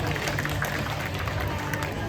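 Audience applause at a tiger show in an amusement park, a dense, steady wash of clapping and crowd noise filling the whole moment at close range.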